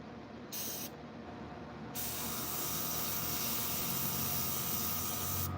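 An airbrush sprays dye onto a rug during a colour change, giving a steady close hiss that starts in short bursts and then runs continuously.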